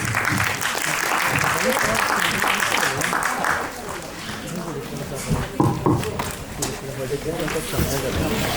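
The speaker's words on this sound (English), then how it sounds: "Can we have a huge round of applause?" A school audience at an Indian debating league final for grades 6 to 8 claps after a debate round. The applause is continuous and crowd-wide, dipping midway, with voices and chatter mixed in throughout.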